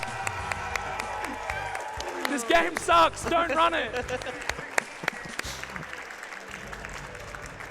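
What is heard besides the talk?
audience applause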